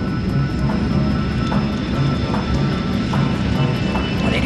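An overweight airliner comes in fast on approach to landing with partial flaps, its engines a loud continuous rumble with a faint high whine above and soft periodic thumps, no speech.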